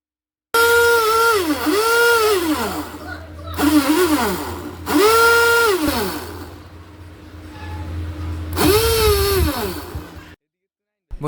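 A small homemade RC boat motor whines on a pond in four separate bursts, its pitch rising and falling as it spins up and slows, with short pauses between runs.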